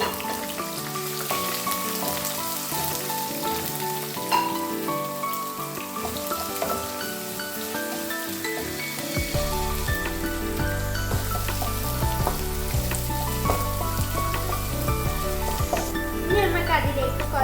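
Fenugreek seeds, ginger, garlic and green chilli sizzle in hot oil for a lemon-date pickle, a dense crackling fry running steadily throughout with occasional stirring clicks; a low hum joins partway.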